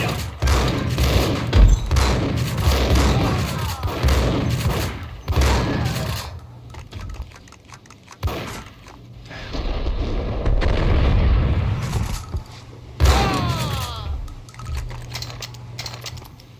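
Gunfire from the Max Payne video game, dense bursts of booming shots and heavy thuds rolling over each other across the stretch, with a quieter gap midway before the firing surges again; loud and close, no talk.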